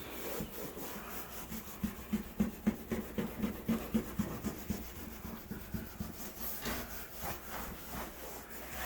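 A Magic Eraser scrubs a surface during heavy-duty cleaning, a quiet series of quick rhythmic rubbing strokes that speeds up through the middle and then trails off into softer, irregular scuffs.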